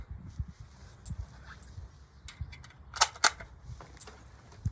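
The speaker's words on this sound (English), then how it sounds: "That's the proper loading of a magazine." Rounds being pressed one at a time into a Norinco 84S rifle magazine, giving light, sharp metallic clicks at uneven intervals, two of them louder close together, over a quiet room background.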